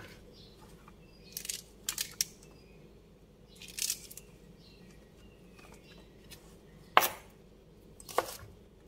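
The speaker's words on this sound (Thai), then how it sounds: "ทีนี้เราจะมาหั่นนะคะ" A few sharp knife chops through long beans on a cutting board, scattered and irregular, with quiet pauses in between and no talking.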